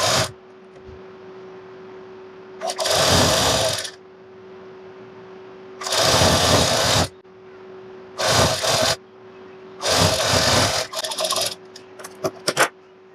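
A sewing machine stitches a wide hem on palazzo pants in several separate bursts of fast, loud mechanical whirring, close up, with quiet gaps and a steady low hum between runs.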